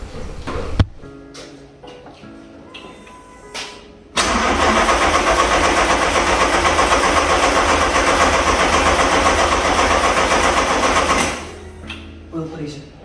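A car engine cranks briefly, stumbles, then catches on its first start-up after a long time off the road and runs loud and steady at a fast idle for several seconds before cutting off, with brief talk nearby.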